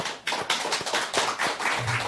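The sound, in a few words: church congregation applauding in welcome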